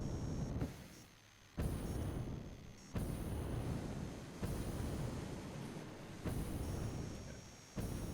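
A freight train in the factory-building video game Satisfactory loads and pulls out, a steady loud rumbling drone with periodic abrupt surges, heard alone without talk.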